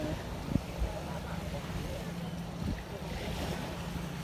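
Steady wash of surf and wind noise at the shore, with a few soft thumps, a constant roar rather than distinct breaking waves.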